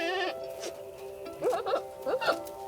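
Young billy goat in rut bleating near a doe, with one drawn-out call at the start and two shorter wavering bleats later, all fairly close and loud with no talk.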